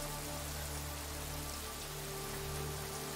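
Heavy rain pours steadily in a John Wick movie scene, a dense continuous hiss of drops beating on surfaces with no voices over it.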